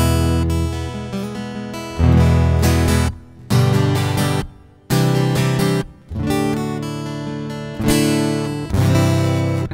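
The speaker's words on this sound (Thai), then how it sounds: "ดูเราเล่นเสียงคลีนปกตินะครับ" Clean, bright electro-acoustic guitar strumming with ringing chords, played in bursts separated by brief pauses, close and fairly loud with no talking.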